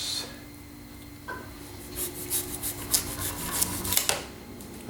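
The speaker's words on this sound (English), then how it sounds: "I'm going to use this rather large knife here, and I'm going to flatten the bottom." A large knife slicing through the bottom of a watermelon to flatten it, giving soft rasping, scraping cuts that build into a run of crisp rubbing strokes, close and fairly quiet with no talk.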